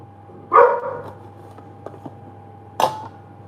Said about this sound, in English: Ooh, the dogs. Don't mind my dogs.